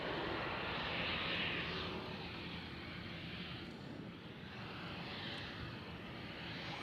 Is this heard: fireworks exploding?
no